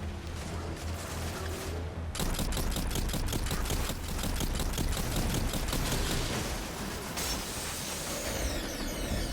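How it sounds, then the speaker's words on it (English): Braytech Winterwolf auto rifle firing in Destiny 2, a rapid, steady stream of shots lasting several seconds, loud and close, with game ambience before and after the burst. "As far as auto rifles go, this Braytech Winterwolf is really good."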